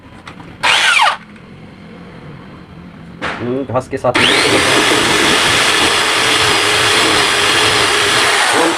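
An electric drill boring holes for mounting a solar panel pole whirs briefly twice, then runs steadily at high speed for several seconds, loud and close, after a short spoken phrase.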